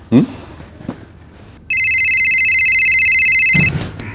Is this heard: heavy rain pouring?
no